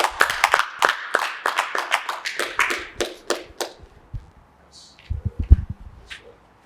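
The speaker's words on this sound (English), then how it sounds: "we can give the round of applause to that exercise" A small group claps after an agreement signing at a press conference, a brief close round of scattered hand claps that thins out, followed by a few soft taps and faint movement.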